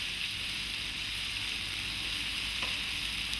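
Diced, trimmed lamb leg seasoned with pepper and salt fries in a pan, giving a steady close hiss and crackle with faint stirring scrapes and no talking.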